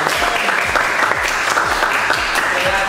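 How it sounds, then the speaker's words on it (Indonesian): Audience applause at a university lecture session, loud dense clapping continuing steadily from start to end, close and unaccompanied by talk. "Tepuk tangan."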